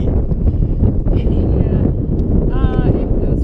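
Strong wind buffets the microphone at an exposed mountain lookout on the Overland Track, a loud continuous roar filling the whole clip, with faint voices partly buried beneath it.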